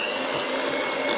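An electric mixer beats Ferrero Rocher cookie batter with a steady, loud motor whine held without pause for about a second, no talk.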